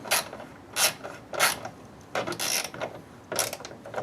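A ratchet tightening a bolt clicks in short bursts while installing an oil catch can on a Ford EcoBoost, several quick rasping strokes separated by brief pauses, close and fairly clear.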